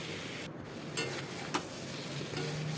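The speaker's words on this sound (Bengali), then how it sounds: "এটাকে ভালো করে নাড়িয়ে নিয়ে এটাকে একটু হতে দেবো।" Mixed vegetables fry in a pan with turmeric as they are stirred, a soft steady sizzle with a few light scraping taps of the spoon, quiet and close.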